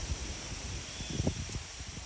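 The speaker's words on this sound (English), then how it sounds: "I'm sure you guys hear the wind, right?" Gusty wind roars steadily across the microphone outdoors, with low rumbling buffets and a faint rustle, no voices.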